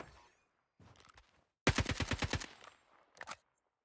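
Gunfire from a weapon in the mobile shooter CODM DMZ mode: a few short bursts, then a sharp rapid string of about ten close, loud automatic shots, followed by one more brief burst.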